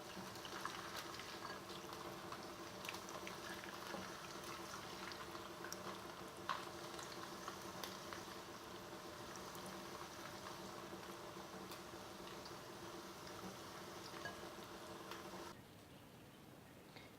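Chicken pieces frying in hot oil in a pan, a steady low bubbling sizzle that runs evenly throughout with faint occasional pops, quiet and close, dropping slightly at the very end.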